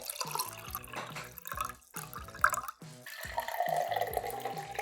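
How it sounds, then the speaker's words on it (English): Water pours into a glass in several short bursts, with gurgling splashes and a rising pitch as the glass fills, close and fairly quiet. "Pouring water into a glass"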